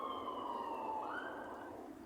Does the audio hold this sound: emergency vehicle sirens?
yes